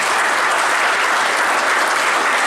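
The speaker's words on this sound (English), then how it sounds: "you guys need to give yourself an applause for that" An audience breaks into loud, dense applause, many hands clapping steadily and evenly throughout.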